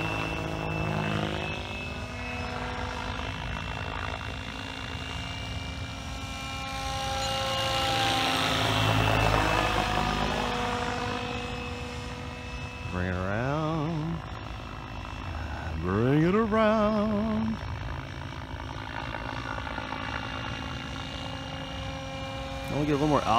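A Gaui X7 FZ radio-controlled model helicopter with an 800 mm stretch flies circuits at altitude, its steady rotor and motor whine rising and falling with pitch changes, with someone talking over it.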